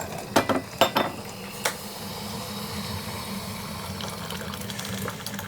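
Hot water being poured out for tea, a quiet continuous trickle and gurgle after a few sharp clinks of cups or kettle at the start, close and soft without talk.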